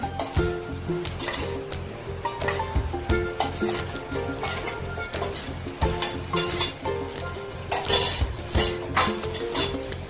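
Grated paneer is stirred into a ready gravy in a pan for paneer bhurji, with repeated metal spoon scrapes and clinks against the pan over a soft sizzle, uneven and close, with no talking.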